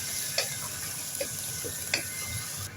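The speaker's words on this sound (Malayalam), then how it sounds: "ചിക്കൻ മൊത്തത്തിലിട്ട് ഒന്ന് മിക്സാക്കാം" Chicken pieces being stirred into fenugreek, spices and pepper frying in a pan, with a continuous close sizzle and a few soft scraping clicks of the spoon against the pan, alone.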